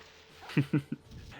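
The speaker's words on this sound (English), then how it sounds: "does Lupus bark and howls change when he's lower in health?" Three quick barks from Lupus, the robotic dog in the Nintendo 64 game Jet Force Gemini, evenly spaced and fairly close, with a soft background hum around them.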